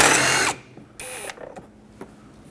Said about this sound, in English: Let's remove one of the 10mm bolts.